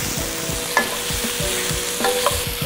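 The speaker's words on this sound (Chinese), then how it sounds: "然后就把那个切断的鸡翅放进去继续翻炒" Cut chicken wings and shiitake mushrooms stir-fried in a wok with scallion and ginger: continuous loud sizzling, broken by rhythmic scraping strokes of a spatula and a few sharper clanks against the metal.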